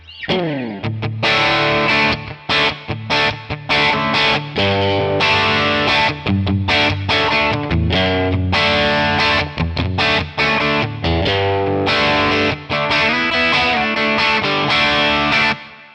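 An electric guitar through a Two Rock OD100 crunch amp model on a Tonex plays sustained overdriven chords and riffs with a gritty, full tone, loud and continuous without talk.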